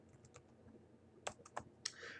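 Short bursts of computer keyboard typing while entering a VLOOKUP formula into Excel, a few quiet clicks followed by louder scattered keystrokes near the end, close and alone.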